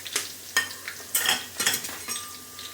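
Peanuts, dal and curry leaves stir-fried in a pan: a spatula scrapes and stirs in repeated strokes while oil sizzles softly underneath, close and clear with no talking.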